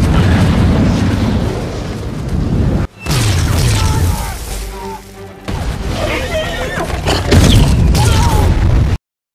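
Explosives detonating aboard an alien mothership in a sci-fi film, heavy booming blasts and rumbling debris with sharp bursts, broken by abrupt cuts and a short quieter gap, loud and close.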